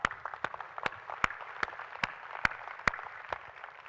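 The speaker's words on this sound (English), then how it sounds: "let's give them a round of applause" Scattered applause from a keynote audience at a Microsoft event in Indonesia: a handful of sharp, fairly evenly spaced claps stand out over a quiet, murmuring hall, thin and distant rather than a full ovation.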